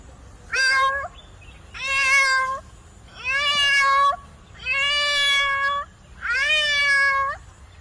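A human voice imitates a cat, giving five drawn-out meows in a steady sequence, each clear and close with short pauses between.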